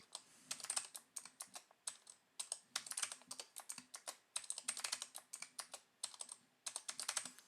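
A password is typed on a computer keyboard during a server lab setup: quiet, close clusters of quick key clicks with short pauses between bursts.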